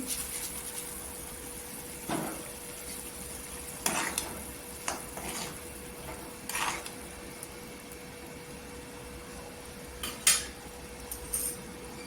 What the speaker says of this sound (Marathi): इथे मसाल्याला छान अशी उकली आलेली आहे तर इथे मोर आलेले मूंग टाकायचे